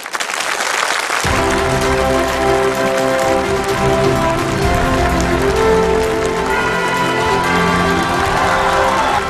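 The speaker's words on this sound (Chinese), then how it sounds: "掌声有请" A TV studio audience breaks into loud, sustained applause that starts abruptly and holds steady, a dense close wash of clapping welcoming collector Ma Weidu onto the stage.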